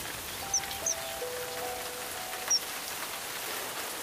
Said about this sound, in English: The skies darken with a downpour that lasts for days.